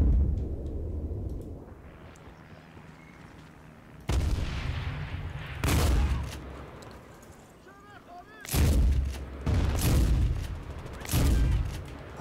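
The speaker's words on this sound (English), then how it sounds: "Oh, this shotgun's decent." Shotgun blasts in Medal of Honor 2010 multiplayer on the Kunar Base map: several loud, booming shots spaced a second or two apart, each with a heavy low thump and a short ringing tail over steady background game ambience.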